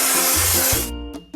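Color-changing spray paint hisses steadily from a can onto a toy truck, loud and close, then cuts off and leaves a low hum with a brief final burst.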